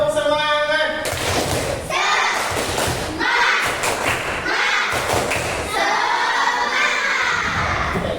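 Sixth-grade pupils shout a chant in unison while clapping and thumping hard, several loud, rhythmic bursts of voices and claps filling the classroom for several seconds.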